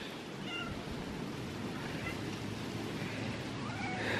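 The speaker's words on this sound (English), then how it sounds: "She says meow." A couple of brief, faint cat meows rise over a steady hiss of background noise, close but quiet.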